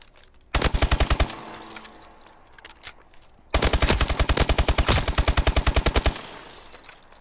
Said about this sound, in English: this is everybody's favorite frickin' SMG in the game